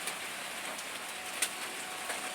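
Heavy rain falls steadily outdoors, a dense continuous hiss of drops striking surfaces, with a couple of brief louder splashes; no talking.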